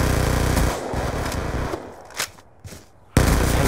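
The Scorpion submachine gun in Black Ops 2 fires in loud, rapid bursts, with a dense stream of shots, a brief lull with a few scattered shots, and then another sharp burst.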